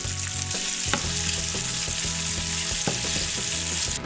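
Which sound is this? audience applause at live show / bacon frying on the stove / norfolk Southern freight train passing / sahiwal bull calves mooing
bacon frying on the stove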